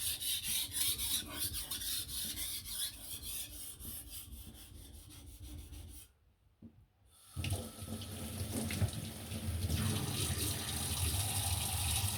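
A knife is stroked against a sharpening stone or rasp in steady, repeated gritty scrapes, one of three knives being sharpened. The scraping breaks off for about a second midway and then resumes, louder and denser.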